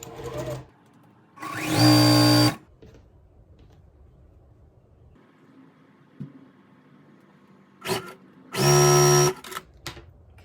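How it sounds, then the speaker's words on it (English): A sewing machine stitches quilt block pieces for a churn dash pattern in two loud, close bursts of rapid whirring, separated by quiet stretches of faint handling noise. "I need to sew these two together right here for the churn dash"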